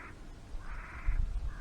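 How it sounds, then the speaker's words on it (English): Crows caw in a couple of short calls on a quiet evening outdoors by a river foreshore at sunset, faint and somewhat distant over low rumbling background. "Hear the birds."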